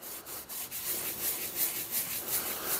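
Surface rust is rubbed off an axe head by hand, a rhythmic abrasive scraping in repeated close strokes with no talking.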